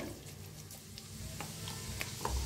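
Mustard seeds, cumin and asafoetida sizzle and crackle softly in hot ghee and oil, a quiet, steady frying hiss with faint pops and no voices.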